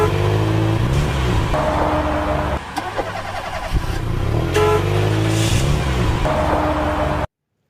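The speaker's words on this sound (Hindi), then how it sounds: "एक दिन रानी चिड़िया अपनी गाड़ी में मीनू चिड़िया के पास जा रही होती है।" A cartoon car drives along with a steady, mid-pitched engine hum and shifting tones, punctuated by a brief dip and a few sharp clicks, then cuts off abruptly near the end.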